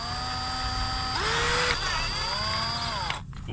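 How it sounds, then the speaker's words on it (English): A power drill bores a small hole into the side of a camshaft or crankshaft seal on a Honda Accord engine, a close, steady whine that bogs to a lower pitch as it bites, then cuts off. "we take a drill bit and we drill a little small hole"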